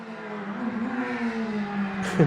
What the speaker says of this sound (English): Yeah, it's an air-cooled Mini 911s.